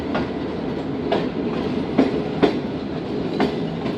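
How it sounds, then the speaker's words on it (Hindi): The Shalimar Express rolls into Khanpur railway station with a steady rumbling roar and periodic clickety-clack wheel beats over rail joints, loud and close, no voices. "ट्रेन इंटर हो रही है खानपुर रेलवे स्टेशन।"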